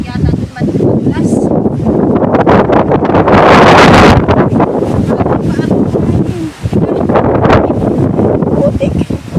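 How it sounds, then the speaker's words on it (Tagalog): Strong wind on a mountainside batters the microphone in loud, rushing gusts that rise and fall, while people talk through the buffeting. "Sobrang hangin dito nga kaigsuunan."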